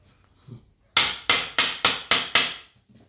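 A hammer strikes a part of a leaking home manometer six times in a steady, even rhythm, each blow loud, close and ringing briefly before the next.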